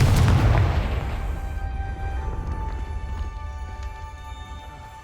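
Confringo blasting spell cast in the Hogwarts Legacy video game: a loud burst at the start decays into rumbling, ringing tones and a sustained low echoing tail.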